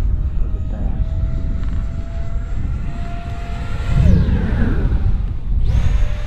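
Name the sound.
Marlin 64mm EDF model jet flying aerobatics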